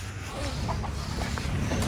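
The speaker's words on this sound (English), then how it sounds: "Such a small rooster." A small rooster clucks in a few short, soft calls over a steady low background rumble near a workshop in the Nepal Himalaya.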